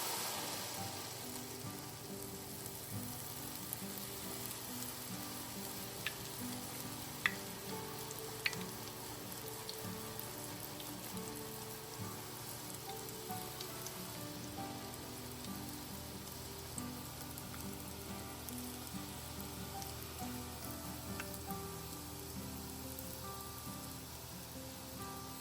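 Buñuelos de viento, festive sweet fritters, frying in hot oil: a steady, even sizzle and crackle continues throughout with a few sharp pops, and no one speaks.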